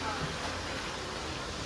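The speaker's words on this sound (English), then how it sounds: "Sorry for the loud noise in the background. My husband is vacuum cleaning or vacuuming." Vacuum cleaner running in another room of a house during cooking: a steady, broadband rushing hum that stays level throughout, fairly faint and continuous, with no distinct onsets.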